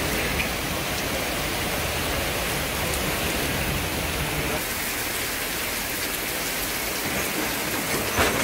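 Heavy rain pours down over Hyderabad, a dense, steady hiss of downpour on roads and surfaces filling the whole stretch with no breaks, loud and close with a few brief louder splashes.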